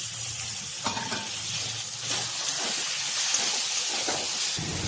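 Onion, ginger, garlic and ground spices including turmeric and cumin powder sizzle steadily in a pan for a cabbage dish, a loud continuous hiss close by with a few stirring scrapes.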